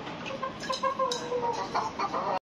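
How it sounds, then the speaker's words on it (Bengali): Hens clucking in a cage on a rooftop farm, a run of soft, close clucks and short calls over a couple of seconds, with no speech. "আর এদিকে এটা আমার সবচেয়ে পছন্দের একটা মুরগি"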